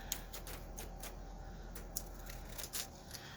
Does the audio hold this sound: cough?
no